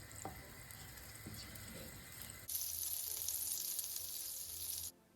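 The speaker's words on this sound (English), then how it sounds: "For the pan, we'll just melt 2 teaspoons of vegan butter," Vegan butter melting in a pan over medium heat, a steady close sizzle that jumps sharply louder halfway through, with a few light clinks early on, then cuts off near the end.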